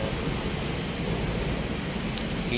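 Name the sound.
rain falling while waiting in a bus queue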